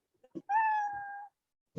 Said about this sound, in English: Now I want this cat to make a sound.